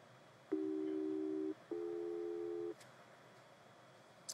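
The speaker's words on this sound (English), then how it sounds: "I'm going to press continuous tone" Avionics test equipment sending a steady test audio tone through a Garmin G1000 cockpit speaker, two clean one-second beeps separated by a short gap against quiet background hiss.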